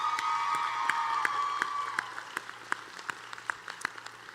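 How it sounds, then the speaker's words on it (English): An audience at a Troy University commencement ceremony on the Montgomery campus breaks into loud applause that thins to scattered, separate claps. "Please give her another round of applause."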